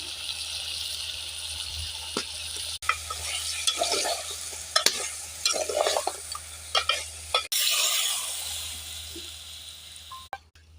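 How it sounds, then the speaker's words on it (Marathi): Chicken with ginger, turmeric and salt stirred in hot oil on a stove, giving a steady close sizzle broken by repeated scraping and clattering strokes of a spoon against the pan. "आता आपलं चिकन असं तेलामध्ये चांगलं परतून घेऊ."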